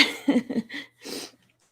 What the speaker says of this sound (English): That man next door keeps coughing really loud.